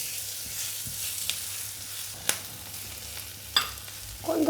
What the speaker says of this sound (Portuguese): Já com o azeite quente, vamos adicionar a cebola. Vamos deixar ficar macia.